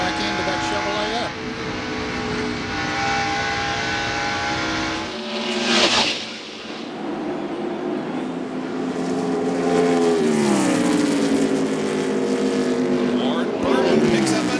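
NASCAR stock cars racing at Darlington Raceway in the 1997 Southern 500, a loud continuous engine roar with pitch sweeps as cars pass, under an announcer's commentary.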